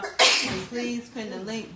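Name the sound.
sneeze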